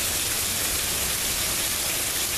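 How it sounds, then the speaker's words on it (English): Heavy rain pours steadily outside a balcony, a dense, continuous hiss of water striking surfaces that stays loud and even throughout, with no voices over it. "it is so raining outside"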